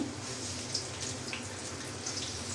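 Fish fry in hot oil with a steady, close hiss and fine crackle that runs unbroken through the short moment, with no voices.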